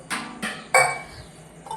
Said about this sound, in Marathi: आता मी चमच्याच्या साह्याने पातेल्यामध्ये लोणी काढते आहे चमच्याने